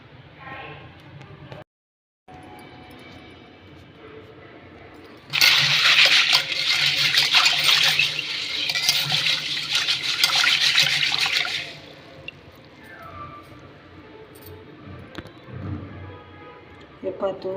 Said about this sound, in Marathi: तूर धुवायची आहे स्वच्छ पाण्याने।